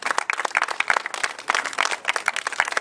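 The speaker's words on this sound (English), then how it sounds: "Can we please have a round of applause for my gun, Captain?" A round of applause rings out from a small group, dense overlapping claps sounding close and lively for a few seconds with no speech over them.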